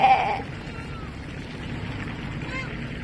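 A sheep bleats once, close and fairly loud, on a Norwegian roadside by the sea, then steady wind and outdoor rumble carry on without further calls.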